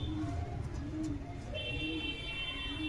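A female green piling Giribaj pigeon coos softly several times at close range, while a steady high electronic tone sets in partway through.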